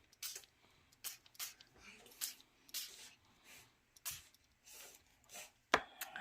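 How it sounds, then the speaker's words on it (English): Liquid colour sprayed from above onto a junk journal page, heard as a run of short, close spray bursts with quiet pauses between them and a sharper final spritz near the end. "I'm just spraying from the top to see if I can get some of this color to run a little bit"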